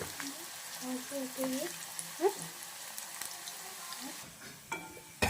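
Onions for a chicken dum biriyani fry and get stirred in a pan, giving a steady sizzle with a few scraping clinks, while a voice talks over it throughout.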